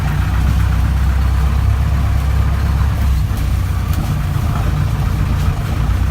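An old Mahindra jeep engine (CJ3B type) labors steadily in first gear while driving off-road on a rough road near forest plantations, a loud continuous low rumble throughout with no voices.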